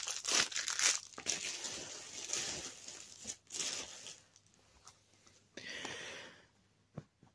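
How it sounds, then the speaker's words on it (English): Plastic wrapping being crinkled and torn off a DVD case, with bursts of crackling and rustling that come and go, loudest early on, near and fairly quiet, with no talking. "let's unbox this"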